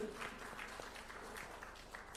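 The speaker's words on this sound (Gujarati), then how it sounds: "આપણે તાળીઓના ગડગડાટ સાથે બંને વક્તાને વધાવી લઈએ" Audience applause at a Gujarati national seminar on language and literature teaching greets two speakers, a soft, steady wash of distant clapping that holds for a couple of seconds with no voices over it.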